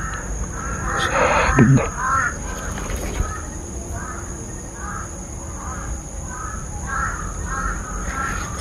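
Repeated crow caws, several short harsh calls in a steady series at moderate distance, with a brief spoken phrase near the start.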